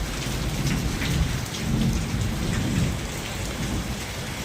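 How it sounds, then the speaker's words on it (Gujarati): A dense downpour hisses steadily on surfaces while deep thunder rolls beneath it, with lightning during a thunderstorm in Bhavnagar, India. "વીજળી થાય છે, કડાકા ભડાકા સાથે વરસાદ આવ્યો છે આજમાં."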